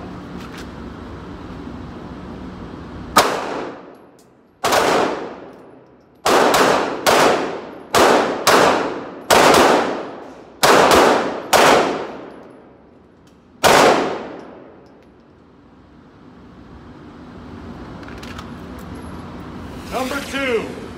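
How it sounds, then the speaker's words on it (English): Pistol shots in a slow-fire drill strike steel targets: about ten loud, sharp cracks, each with a ringing metallic decay, spaced irregularly a second or so apart, with quiet background between them. "That is five shots, slow fire."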